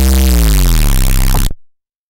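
A sustained synth bass tone from a single sine wave with a bright hiss from a noise oscillator layered on top, holding steady and loud before cutting off abruptly.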